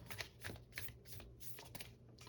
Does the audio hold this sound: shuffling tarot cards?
yes